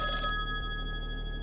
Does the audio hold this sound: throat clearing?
no